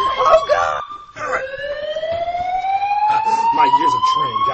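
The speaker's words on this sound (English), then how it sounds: "Oh, crap. He set the alarm." A loud, steady electronic alarm tone wails continuously in a Mario cartoon, its pitch sliding slowly upward, with cartoon voices talking over the start and end.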